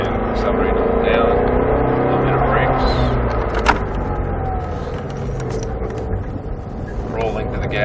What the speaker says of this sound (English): Then we roll into a little bit of gas, start our arcs through the cones, and accelerate down.